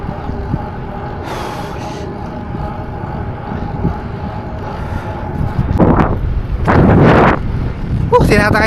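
Strong gusting wind buffets a cyclist on a ride, a steady broadband roar with louder surges toward the end, with traffic rumbling nearby.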